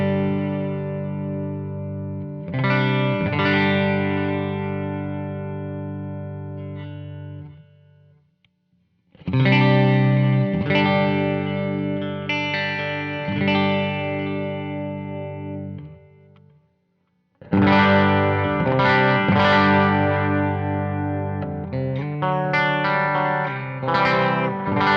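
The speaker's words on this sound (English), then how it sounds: "This is my clean sound today through a T-style guitar. We'll start on a neck pick." A T-style electric guitar on its neck pickup plays a clean tone through an amp, ringing chords and notes in phrases separated by brief pauses, loud and close with no talking.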